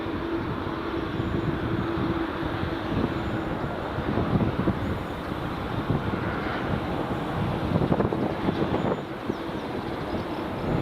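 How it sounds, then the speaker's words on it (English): Blustery wind on a chilly morning at Edinburgh Airport, a steady loud roar of gusts buffeting the microphone throughout, with a low rumble underneath and no voices. "It's quite a cold, it's quite a chilly, blustery morning here at Edinburgh Airport"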